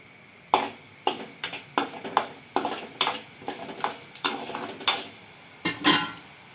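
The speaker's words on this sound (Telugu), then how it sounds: "నూనె వేడెక్కేసింది ధనియాలు వేసుకుంటున్నాను" Coriander seeds drop into hot oil in a pan while making a gongura pickle, giving a loud, steady series of sharp clinks and rattles as the pan is stirred, with a faint sizzle underneath.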